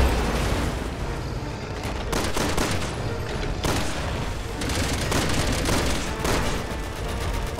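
Gunfire at a gas tank in Resident Evil 6, a dense, loud barrage of overlapping shots and booms that keeps going steadily, heavy and close throughout.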